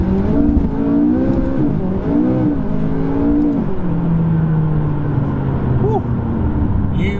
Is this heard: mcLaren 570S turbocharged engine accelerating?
yes